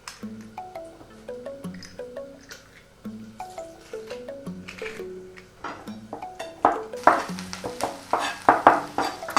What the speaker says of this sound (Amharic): አብሬ ከነጭ ሽንኩርቴ ጋርም ጥብስ አደርገዋለሁ